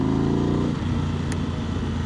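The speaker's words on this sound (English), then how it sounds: "it's made a heck of a difference to the way this bike sounds, especially when you roll on sort of low revs" Motorcycle fitted with a Pipeworks exhaust, baffle in, rolling on at low revs: a steady, close, throaty engine drone with a deeper grunting tone taking over partway through, no talking.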